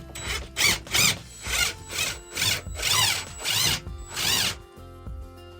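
A power drill drives a screw with a washer into metal while fixing a collapsed shelf, giving about eight loud, close whirring bursts in a steady on-off rhythm, then a brief quiet tail.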